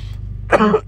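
A man clears his throat once in a short, close, fairly loud burst, a single rough hacking sound against a quiet background.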